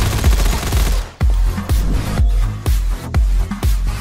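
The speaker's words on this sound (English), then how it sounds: "just want to shoot a gun in the third person" Gunfire in Fallout 4 from a third-person view: a series of about seven heavy, booming shots at an uneven rhythm, loud and close, with no talking.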